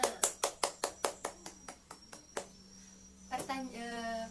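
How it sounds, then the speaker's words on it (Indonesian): An elementary school class claps together during a science lesson: a dozen crisp, evenly spaced claps in a steady rhythm that fade out. A faint voice follows, then a sustained tone near the end. "Tepuk tangan semuanya."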